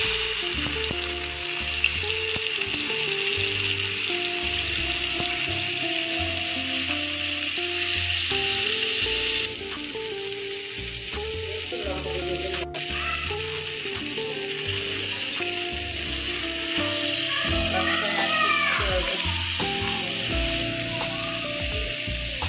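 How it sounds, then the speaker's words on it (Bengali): Fish frying in oil in a frying pan, a steady loud sizzle and crackle running throughout with no talk. "ওদের তেল দিয়ে মাছগুলোকে ভালো করে ভেজে নেব।"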